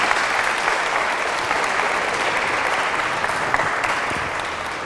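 A dense, continuous round of applause from a crowd at an airline symposium at Martin State Airport, steady and fairly loud throughout with no talking.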